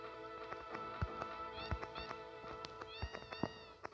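Several cats in Final Fantasy VII meow in quick, overlapping calls, some short and some rising and drawn out, scattered over a quiet background.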